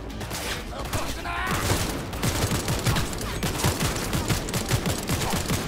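Automatic weapon gunfire in the video game Cyberpunk 2077 after the 1.04 patch, a loud rapid fusillade of shots in steady bursts with a person talking over it.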